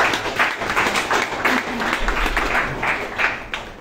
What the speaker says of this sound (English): Let's give him a round of